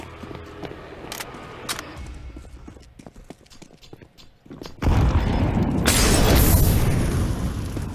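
Grenade blast in a multiplayer shooter game: a sudden loud, sustained boom that floods the mix and rumbles on for several seconds, preceded by quieter game noises and clicks.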